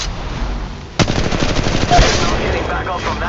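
Automatic gunfire in the mobile battle-royale game Apex Legends Mobile: a loud, rapid burst of shots starting abruptly and rattling on for a couple of seconds up close, with game effects and noise beneath.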